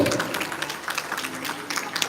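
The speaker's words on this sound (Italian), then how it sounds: "al quale chiedo il primo applauso della giornata" An audience claps at a youth regional boxing event in Veneto, a brief burst of scattered applause echoing in an indoor hall.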